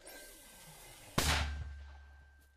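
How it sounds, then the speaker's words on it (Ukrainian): A single loud, sharp gunshot or artillery blast from Ukrainian marines firing in support of an offensive near the frontline, bursting suddenly and rumbling away over low background noise. "Постріл."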